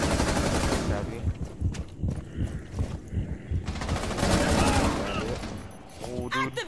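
Rapid bursts of video game gunfire crackle in a noisy firefight, mixed with game effects and with players talking over the shooting.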